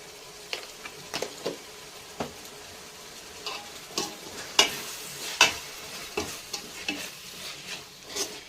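Tomatoes with a little salt sautéing in a pan for a 1 kg mutton dum biryani, a soft steady sizzle broken by intermittent clicks and scrapes of stirring.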